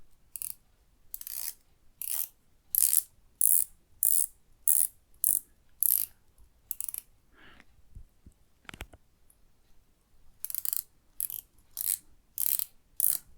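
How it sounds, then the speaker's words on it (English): Ratcheting bezel of an Aries Gold Dreadnought dive watch being turned, giving crisp bursts of mechanical clicks in an even rhythm, about a dozen short runs separated by brief pauses, close and alone. "I could turn this bezel all day long."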